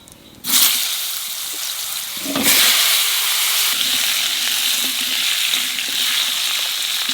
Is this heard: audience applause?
no